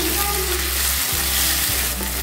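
Chopped tomato goes into onions frying in a pan, and a continuous close sizzle carries on with a couple of dull stirring knocks partway through.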